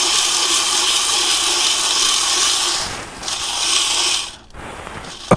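Dry, dusty gold pay dirt pours steadily into a dirt sifter with a continuous hissing, rustling rush that thins out near the end, heard close and alone.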